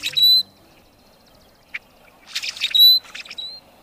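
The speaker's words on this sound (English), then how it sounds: "this is the song of the rusty blackbird." A rusty blackbird sings a few squeaky, creaking notes, like an unoiled hinge, with short gaps between bursts against a quiet background.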